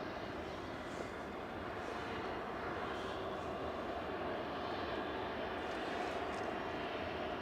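A Singapore Airlines airliner taxis out at Manchester Airport, its engines giving a faint, steady distant whine and rumble with no break.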